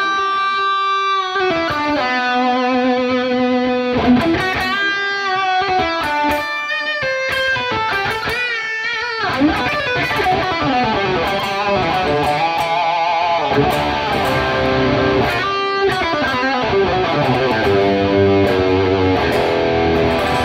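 An electric guitar solo through an ENGL Ironball amp with a volume boost and delay plays fast, saturated lead lines with sustained bends and repeating echoes, loud and alone.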